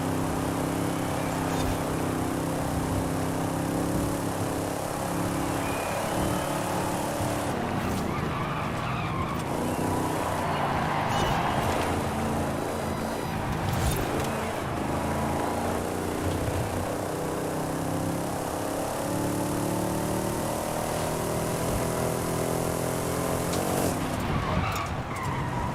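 A car engine at full throttle in Forza Horizon 5 racing game, a loud sustained roar with tires skidding and squealing through corners, continuous for the whole stretch with no speech.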